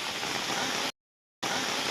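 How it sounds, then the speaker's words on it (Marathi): Heavy rain pours down outdoors at a temple site as a loud, steady hiss that cuts out completely for a moment midway, then resumes. "खूप धुवाधार पावसाने इथे धमक घातलेली आहे"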